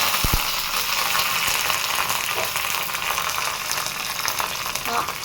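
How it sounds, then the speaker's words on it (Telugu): Tempering sizzles in hot oil with buttermilk chillies, onions, cumin and curry leaves. A loud, steady frying hiss runs close and unbroken throughout with no talking. "పప్పుచారు కూడా నేను ఇక్కడ తాలింపు అంటూ వేస్తున్నాను"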